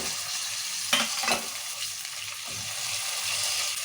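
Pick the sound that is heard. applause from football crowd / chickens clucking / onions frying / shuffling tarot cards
onions frying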